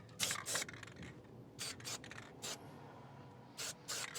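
Short hissing bursts of a spray can laying a quick coat of paint on a part of a 1966 Ford wagon, several separate sprays of about a quarter second each, close by, with quiet gaps between them.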